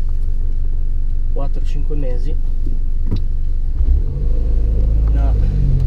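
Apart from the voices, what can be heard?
2011 Mini Cooper S 1.6 turbo car engine while driving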